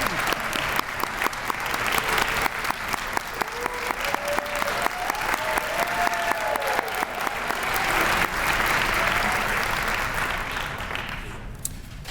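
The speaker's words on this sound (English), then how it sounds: "let's give them a round of applause." Sustained audience applause at the Kentucky Writers Hall of Fame induction ceremony, honoring the inductees. Dense, steady clapping from a large crowd fills the whole stretch and thins out near the end.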